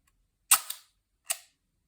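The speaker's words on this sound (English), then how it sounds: "point it at the bright sky or another light source, and fire the shutter." A Contaflex camera shutter fires on its own: a sharp mechanical snap, then a quieter second click about three-quarters of a second later, crisp and close.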